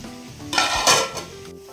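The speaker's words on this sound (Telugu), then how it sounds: "బిర్యానీ రైస్ ఇలా ఉడుకుతుందండి" Biryani rice for chicken dum biryani cooking in a pot with ghee and salt, heard as close kitchen sounds of stirring and bubbling sizzle with light clinks of utensils against the vessel.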